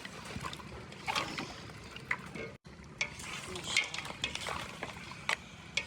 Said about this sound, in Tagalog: Tsaka natin haluin. Haluin.